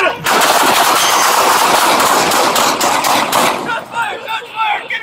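Rapid, loud gunfire crackles nonstop during a police shootout in Baltimore, with dense bursts of shots that thin into a few scattered pops while people shout over the din.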